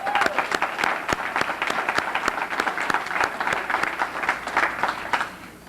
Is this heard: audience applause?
yes